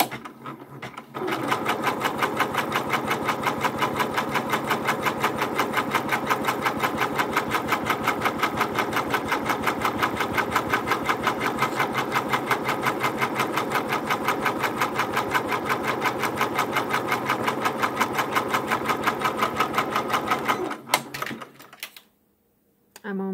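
A Janome MB4 embroidery machine stitches applique at a moderate speed, a loud, steady mechanical chatter of rapid even stitches that runs for about twenty seconds, then slows and stops.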